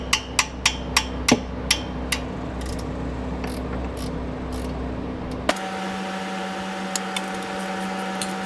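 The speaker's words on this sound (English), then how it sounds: "just going to use the hammer, knock it loose." A hammer strikes metal in a quick series of sharp knocks, knocking a transmission part loose on a 2015+ Subaru WRX, then a few scattered taps follow over a steady mechanical hum.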